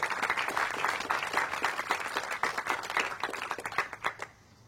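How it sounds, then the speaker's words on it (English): Applause from the audience at a city council meeting fills the room, a steady wash of many hands clapping that thins out and stops abruptly near the end. "Now you can give them an applause."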